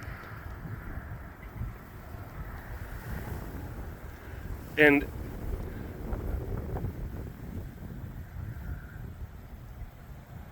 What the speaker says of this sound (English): Apologies if it's a little windy.